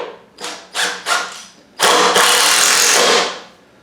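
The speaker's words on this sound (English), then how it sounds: "drill that in there" A power drill driving a screw through a wire armature into a sculpture base: a few short whirring bursts, then one longer sustained run of about two seconds, close and loud, with no talking.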